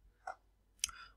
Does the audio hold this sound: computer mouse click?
yes